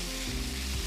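Shrimp frying in a pan over medium-low heat, a brief burst of steady hissing sizzle, close and even.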